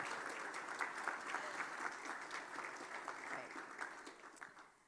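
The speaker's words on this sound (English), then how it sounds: "Let's give them an applause." Audience at an occupational therapy master's pinning ceremony applauding the graduating class, a dense, steady wash of clapping at moderate distance that fades out at the end.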